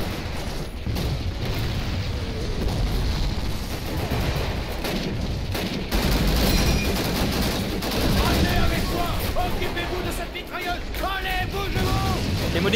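Dense machine-gun and rifle fire with booming blasts in a World War II forest battle at Bastogne in Call of Duty: United Offensive, continuous and loud, with shouted voices mixed through the din.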